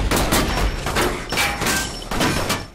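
Gunfight shootout in a film: several heavy, booming shots in uneven bursts, loud and close, with no talking.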